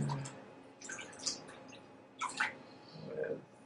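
Homemade Pinot Noir wine from a kit splashes and trickles in a few short, soft pours, close by, with quiet dripping sounds in between.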